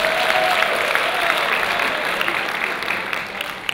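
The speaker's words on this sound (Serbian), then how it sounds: "Aplauz" An audience at a music festival applauds, a steady loud wash of clapping that tapers slightly toward the end.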